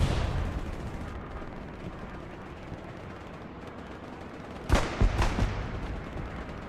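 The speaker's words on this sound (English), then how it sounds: "Looks like another bombing run is coming in." In Hell Let Loose, on the Hurtgen Forest map, a bombing run sets off a pair of heavy, booming explosions. They land close together about two-thirds of the way through, over a constant low rumble of distant battlefield fire.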